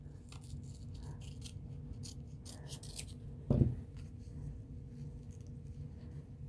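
Scissors snip through fusible material near a kitchen towel, a series of soft close rasping cuts with one sharper snip midway, quiet and with no talking over it.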